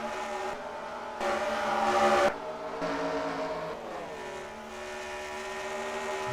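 Race cars roar around the Atlanta track during an SSSR heat race, with harmonic engine whines rising and falling. One car passes loudly and close for about a second, and a continuous engine wash from the pack fills the rest.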